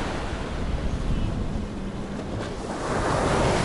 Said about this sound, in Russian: И как классно заходит морюшка сюда волнами.